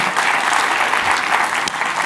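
Dense, steady applause from a large audience at a creative-industries conference talk, a continuous close wash of many hands clapping with no voices standing out.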